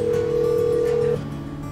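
Steady telephone tone rings out on a line before a call, a single sustained tone lasting about a second then stopping, fairly loud and close with a faint hum behind.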